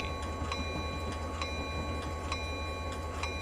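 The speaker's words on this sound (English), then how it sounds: "Dynamic braking." Locomotive in the Train Simulator 2020 video game, running on a night trip through New York and New Haven territory under dynamic braking, with a constant low rumbling hum and a steady clickety-clack ticking of rail joints.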